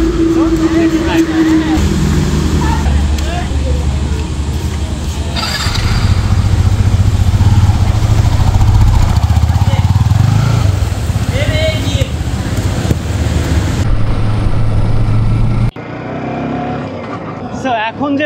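A motorcycle ridden on the road with a camera mounted on its windshield, a steady engine drone with wind rush and passing traffic while someone talks over it, ending with a sudden drop in noise.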